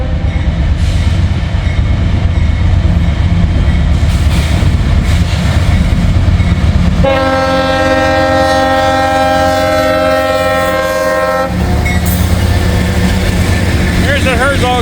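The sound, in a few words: CSX locomotive train horn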